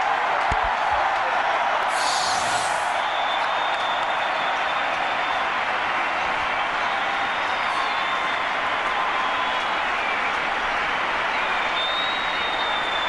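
A cricket crowd applauds and roars steadily as Inzamam-ul-Haq walks off after his innings in a 2004 India vs Pakistan one-day international, a broad, sustained wash of clapping and cheering at a distance.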